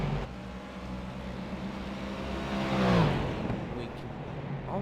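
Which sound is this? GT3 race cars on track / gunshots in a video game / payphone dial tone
GT3 race cars on track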